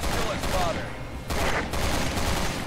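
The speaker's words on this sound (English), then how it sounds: "I might just use my shotgun." Shotgun fire in Resident Evil 6, heard as loud, dense blasts in quick succession, with a short gap before a second heavy burst, over constant game noise.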